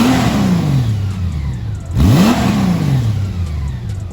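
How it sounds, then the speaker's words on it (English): The exhaust of a 2021 Honda Goldwing motorcycle revs in two smooth rises, each falling back slowly, loud and close with no voices, its tone soft and whirring like a sewing machine. "I call this exhaust a glorified sewing machine, because that's what it sounds like"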